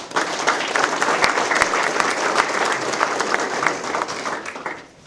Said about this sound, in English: Let's give Dexter and Vinny another round of applause.